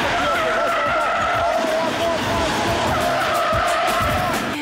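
A car at a track event screeches its tyres in a sustained, loud skid under full throttle, engine roaring throughout, with a voice talking over the noise.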